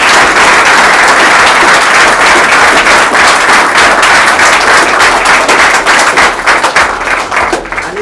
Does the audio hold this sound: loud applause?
yes